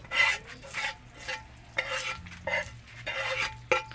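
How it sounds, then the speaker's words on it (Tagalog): A spoon scrapes and stirs sticky ingkiwar mixture in a pot while it cooks toward brown, with repeated close scraping strokes and light sizzling. "ihahalo namin yan para hanggang sa magkulay brown"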